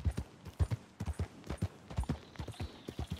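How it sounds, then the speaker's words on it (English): Wild horses' hooves clip-clopping in the Red Dead video game, a steady, close rhythm of distinct hoof strikes repeating throughout, with no talk over them. "there are wild horses in here"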